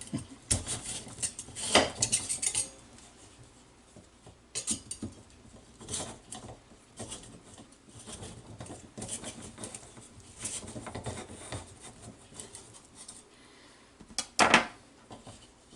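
Knife slicing through a raw potato for hasselback potatoes on a cutting board, a series of irregular crisp cuts and taps close by, interspersed with quieter pauses and small kitchen clatter.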